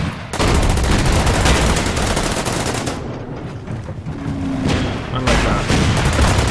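Rapid gunfire and booming shots from the strategy video game Order of Battle: Winter War, set at Suomussalmi, crackle loudly and almost continuously, with someone talking briefly over the battle noise.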